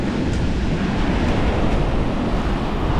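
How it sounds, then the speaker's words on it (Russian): Strong wind buffets the microphone over a steady roar of crashing surf, loud and continuous with no voices. "Ветер очень сильный. Сдувает, гляньте, какие волны."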